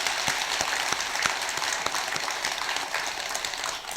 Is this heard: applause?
yes